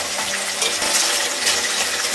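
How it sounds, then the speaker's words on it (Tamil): Chicken pieces fry in hot oil for Chettinad-style chicken uppu kari, giving a loud, steady, close-up sizzle that hisses without a break. "இந்த சிக்கனை கொஞ்சம் கொஞ்சமாக போட்டு எண்ணெய்கில் பொறுத்து எடுத்துக்கலாம்."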